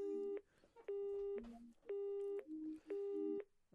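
A telephone busy signal after a hang-up in a visual novel game, four evenly spaced beeping tones at a steady rhythm, with a voice murmuring faintly between them.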